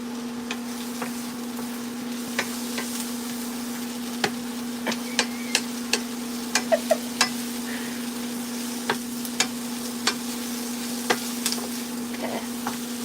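Garlic frying in a pan gives a steady, low sizzle with scattered sharp ticks and pops, close by and fairly quiet, with no voices.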